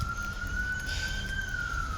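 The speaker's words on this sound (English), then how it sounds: "hear sirens?" A siren wails outside with a steady, slowly rising and falling tone held for about two seconds over low rumbling background noise, with no talk.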